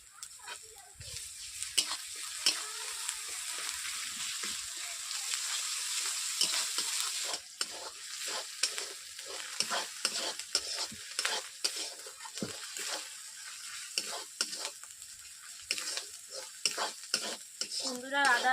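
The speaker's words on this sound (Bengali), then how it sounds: "এরপর দিয়ে দিচ্ছি আদা রসুনের পেস্ট।" Onions with ginger garlic paste being stir-fried in a pan for a vegetable curry, a steady sizzle and frying hiss with repeated scraping stirs of a spoon against the pan, close and continuous, no talk.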